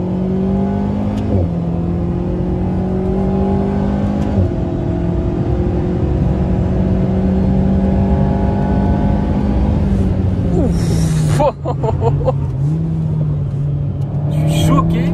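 Four-cylinder, 300 hp sports car with a rising engine note, a steady loud drone climbing through the gears with a few shift breaks, then a brief lift and resumed pull near the end; someone talks over it throughout.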